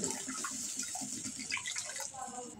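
Water pours into a pan of egg curry to make the gravy, a steady close splashing rush that runs for a few seconds with a faint voice underneath.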